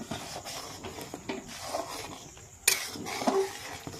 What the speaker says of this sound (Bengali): একটু সুজি, আস্তে আস্তে নেড়ে দিচ্ছি।